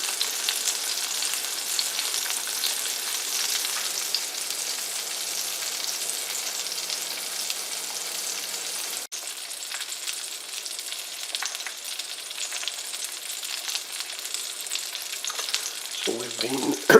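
Duck magret sizzles steadily in its own rendered fat in a pan, a dense, even crackle that runs alone and close throughout, with a brief dip midway and a few clinks near the end.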